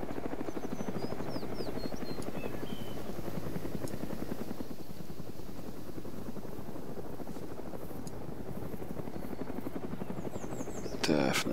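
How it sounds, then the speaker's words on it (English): A helicopter returns in a military shooter video game, its rotor chopping loud and continuous throughout, with brief electronic game effects over the top and no speech. "Just the heli's come back."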